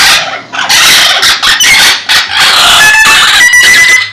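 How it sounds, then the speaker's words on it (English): A large parrot screams and shrieks very loudly and close, in harsh repeated bursts with short breaks between, with no talking. "They all scream insanely loudly."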